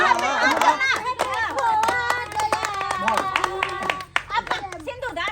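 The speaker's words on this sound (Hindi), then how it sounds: "ताली बजा ताली बजा" Guests clap in quick, uneven bursts at a wedding, the claps close and sharp under overlapping talk and children's voices.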